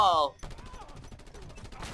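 Rapid automatic gunfire from the video game Just Cause 2 rattles off in a fast, even stream of sharp shots, preceded by a brief tonal chime.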